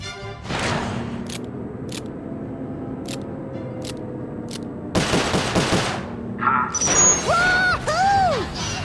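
Gunfire in the Sly Cooper: Thieves in Time video game, sharp isolated shots at intervals over a steady hum, then a denser crashing volley followed by whistling, swooping effect tones.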